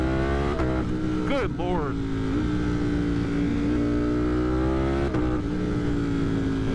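Ducati motorcycle fitted with an aftermarket eBay exhaust, accelerating while being ridden: a loud, steady engine drone that climbs through the revs, with brief voice exclamations over it.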